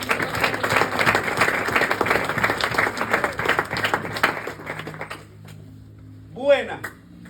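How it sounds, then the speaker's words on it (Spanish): A church audience applauds loudly and steadily for about five seconds, then the clapping fades out and leaves a quiet room with a brief faint sound near the end. "Y eso mereció un aplauso."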